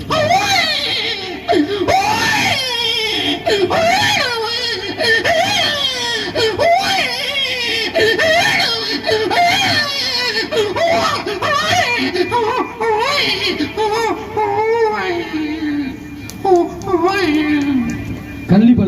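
A voice imitates a crying baby with repeated rising and falling wails, whimpers and sobs at close range, carrying on steadily for a long stretch.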